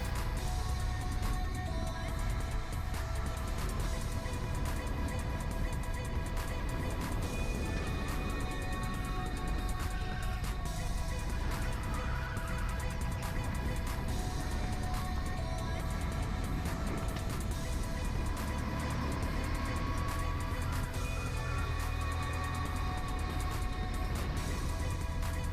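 A racing kart engine in a video game, pushed hard through a fast qualifying lap. It holds a continuous, fairly quiet buzzing drone with a steady pitch the whole way through, and nothing else sounds over it.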